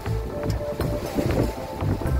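Steady wind rushing past a sailing boat heading south near Onsala at about 11 knots, a loud continuous blustery roar with gusty rises throughout.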